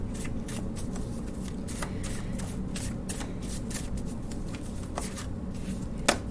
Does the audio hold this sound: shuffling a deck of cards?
yes